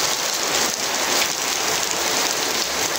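Heavy rain pours steadily onto surfaces outside a house in Dubai, a loud, dense, unbroken hiss with no pauses or thunder.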